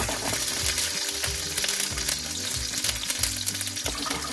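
Halved boiled eggs, lightly scored, fry in hot oil as a spatula stirs them, producing a steady close sizzle with intermittent scraping and clatter throughout.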